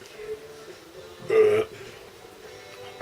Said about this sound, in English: I'll wait for the burp.